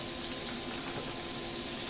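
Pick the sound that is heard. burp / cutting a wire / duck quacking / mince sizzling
mince sizzling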